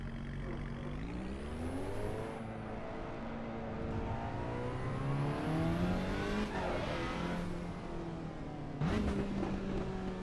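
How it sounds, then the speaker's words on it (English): Alpine A110 engine drones steadily while driving the Nordschleife in Assetto Corsa Evo, pitch rising and falling smoothly through gear changes, with a whining tone above and no talking. "Alpine A110 round the Nordschleife"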